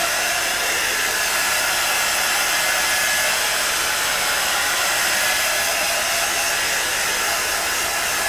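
A hair dryer blows on wet paint over a mixed-media background textured with tissue and doilies, a steady, loud, unbroken whoosh that holds for the whole stretch with no talking.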